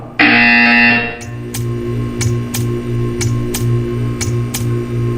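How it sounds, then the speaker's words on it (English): Buzzer from the Portal video game: a loud sustained tone cuts off after about a second, followed by a steady train of sharp repeating ticks over a low humming drone, with no talk. "You will hear a buzzer."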